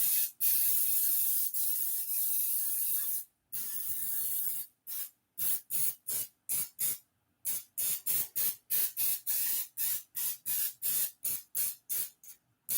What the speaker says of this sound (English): don't be skimpy on this baking spray